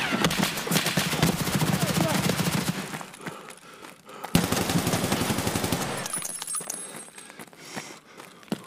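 Rapid video game gunfire rattles in a fast automatic stream, pausing briefly and resuming, then thinning out as someone speaks German over the tail end.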